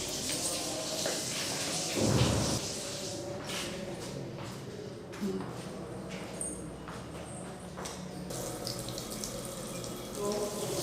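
Taps running at a school's drinking water area, a steady splashing flow with intermittent knocks and clatter, moderately close, under a faint background voice.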